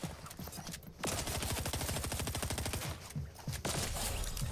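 Gunfire in the video game Fortnite: a sustained rapid burst of shots lasting about two seconds, then a few shorter bursts, loud against game background noise.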